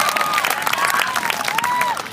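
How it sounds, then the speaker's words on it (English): A crowd at a Fremantle Dockers family fun day claps and cheers for footballer David Mundy, a lively mixed wash of applause with a few whistle-like calls rising and falling over it. "Give David a big round of applause"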